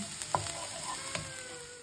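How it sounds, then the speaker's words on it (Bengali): Soft, steady sizzle of onions frying in a pan, with a few faint crackles and pops and no talking. "পেঁয়াজটা এখন বেশ ভালো ভাজা ভাজা হয়ে গেছে"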